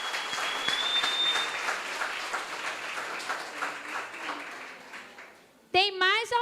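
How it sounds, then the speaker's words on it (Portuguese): A church congregation at a Saturday family service applauds, a broad wash of clapping from many hands that fades away, after which a voice begins speaking close to the microphone. "Vamos aplaudir"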